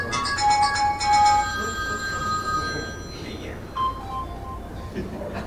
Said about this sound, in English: So your phone should start ringing momentarily.